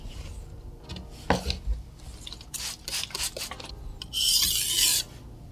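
Knife blade being sharpened on a sharpening stone: scattered scraping strokes and rubs of steel on stone, then a louder sustained grinding stroke near the end, close up with no talking.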